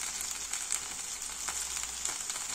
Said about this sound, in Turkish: Ve tavada yağsız tavada kızartıyorum.